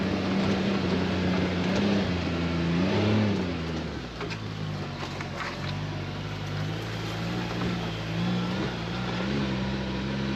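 A CF Moto U10 Pro UTV engine drones steadily and loudly up close as the vehicle drives over bumpy ground, its pitch rising and dipping slightly, with rattling and knocks over the constant motor noise.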